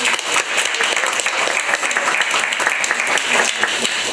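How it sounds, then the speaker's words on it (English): A town hall meeting audience gives a round of applause for the mayor of Hamtramck, a loud, dense, continuous burst of many people clapping close by, steady for the whole stretch. "So let's give her a round of applause."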